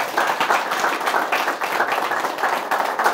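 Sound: audience applauding the Canal+ sales director

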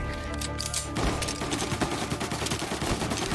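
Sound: Tommy gun firing in video game Mafia: Definitive Edition

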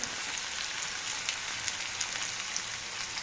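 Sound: onion added to hot oil for batata poha

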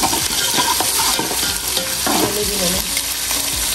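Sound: onions frying and stirred with ginger garlic paste

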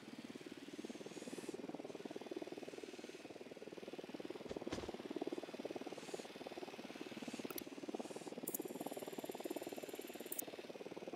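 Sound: drone launched in Ghost Recon Wildlands video game

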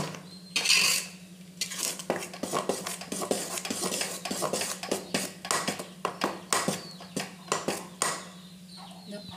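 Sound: stirring Mysore pak mixture in a pan

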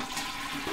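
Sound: toilet flushing in the video game Deltarune

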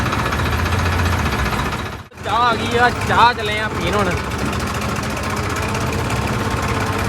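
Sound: tractor engine running

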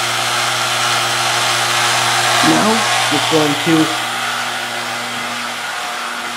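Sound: vacuum pump drawing a vacuum on fusor system

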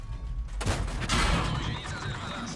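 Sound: shell hit on tank compartment in a video game

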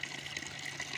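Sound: fresh water flowing from a mountain spring

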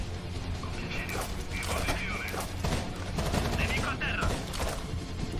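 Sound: gunfire in video game Rainbow Six Vegas 2

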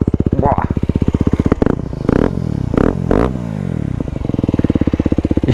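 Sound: Aprilia SX 125 motorcycle engine revving loudly

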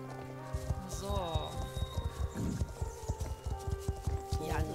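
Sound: horse hooves and whinny in video game Star Stable

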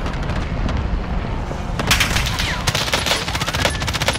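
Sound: gunfire in Call of Duty Caldera video game

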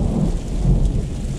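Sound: heavy rain pouring down in desert storm

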